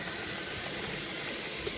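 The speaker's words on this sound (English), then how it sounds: "Spray everything now." Cleaner sprays onto the plastic and rubber parts of an RC car in a steady, close hiss that lasts nearly two seconds without a break.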